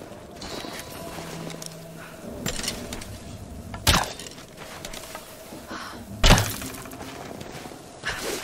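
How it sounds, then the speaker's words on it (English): A wooden bridge breaks apart in the video game Rise of the Tomb Raider, with splintering wood, scattered creaks and two loud, sharp cracking impacts several seconds apart over a low background rumble. "Bridge collapsed."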